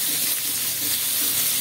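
Cumin seeds crackling and sizzling in hot oil in a pan, a dense steady hiss with no talk.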